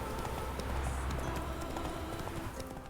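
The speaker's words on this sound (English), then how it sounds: "Ooh, horses." Horse hooves gallop in The Witcher 3, a steady, fairly close clip-clop of rapid hoofbeats that continues throughout, fading slightly toward the end, with no speech.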